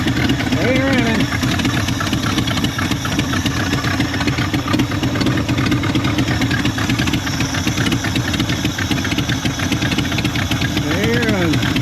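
A Ford Dentside F150 pickup engine idles roughly and steadily throughout, loud and close, with a constant mechanical rumble and knocking vibration.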